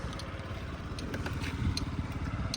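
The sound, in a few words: Yamaha Jog SA 55 scooter engine idling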